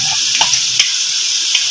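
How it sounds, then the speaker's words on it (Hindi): Yogurt being whisked with salt and black pepper, a steady wet hissing scrape with a few soft clinks of the whisk against the bowl, close and continuous. "अच्छे से हमने फेंट लेना है दही"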